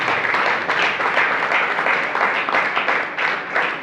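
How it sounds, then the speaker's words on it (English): An audience at a teaching reality show grand finale in Lagos claps for the contestants in a loud, dense, steady round of applause that runs without a break. "I think we should clap for them once again."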